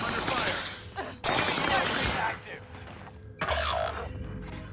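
Rapid gunfire and explosions in Call of Duty Warzone, dense bursts of shots and impacts that crowd together and cut in and out, loud and close.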